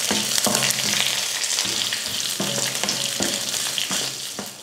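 Garlic, onion, red chillies and chopped carrot sizzle and fry in a pan, a steady close hiss broken by repeated scraping stirs, no voices.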